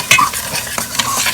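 Smoked fish is stirred into a pot of Ghana jollof base, giving close, scraping stirring strokes over a soft frying sizzle, with a few brief clinks of the utensil.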